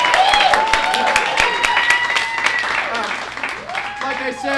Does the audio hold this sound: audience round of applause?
yes